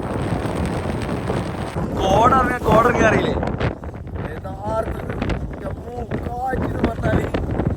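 Strong wind roars and buffets the microphone throughout, with people speaking and calling out over the gusts.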